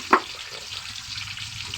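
Cumin paste frying in hot oil on a clay stove, with a sharp hiss right as it hits the pan, then a steady low sizzle and faint stirring.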